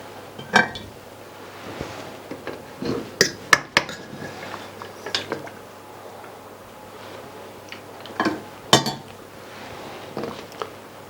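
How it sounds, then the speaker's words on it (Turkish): Lamb trotter meat and bones are lifted from a cooking pot into a glass baking dish. Scattered clinks and taps of utensils against glass and metal come at irregular intervals over a quiet background. "Etleri borcama çıkarttık"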